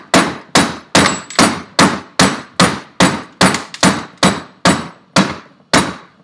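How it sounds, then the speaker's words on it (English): A nylon hammer strikes a part of a P125 engine during a rebuild, about fifteen loud, evenly spaced knocks in a steady rhythm, with no talking. "never use a normal hammer because you will bend it"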